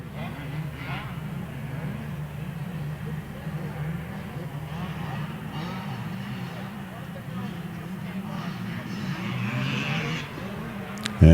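Two-stroke open class motocross bikes racing through S-turns at Winchester Speedpark MX, a blended engine drone that rises and falls in the distance, heard under a commentator's voice.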